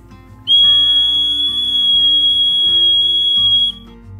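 A single sustained shrill blast from an emergency safety whistle blown lightly, bright and loud, lasting about three seconds before cutting off.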